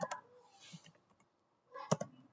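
Typing on a computer keyboard while entering Cisco router commands, a few quiet close clicks in two short bursts separated by near silence.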